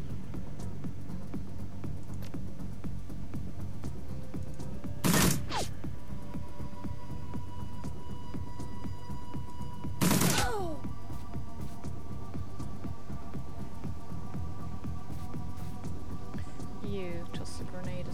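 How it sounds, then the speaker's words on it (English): Two sharp broadband blasts about five seconds apart in Dragonfall, like a frag grenade going off in a closed room, each loud and brief over a steady low hum and murmuring background. "frag grenade in a closed room ain't exactly a good idea"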